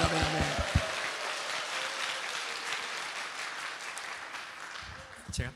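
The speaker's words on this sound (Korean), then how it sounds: "우리 하나님께 영광의 박수 한번 세게!" A church congregation at a prayer meeting claps loudly in a sustained wash of applause, with voices speaking at the start and again near the end.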